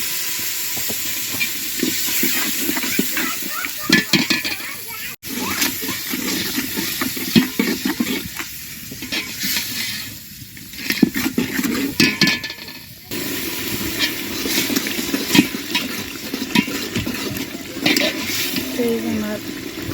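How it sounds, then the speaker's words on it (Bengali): Spices for vegetable khichuri sautéing in oil in a village kitchen pan, a continuous loud sizzle and hiss with scraping stirs, and a voice talking intermittently over it. "আমার মশলা কষে নিতেছি।"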